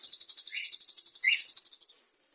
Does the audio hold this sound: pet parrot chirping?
yes